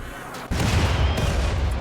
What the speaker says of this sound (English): I'm gonna send some mortars before the cougars get to them.